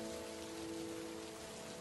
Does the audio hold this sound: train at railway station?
no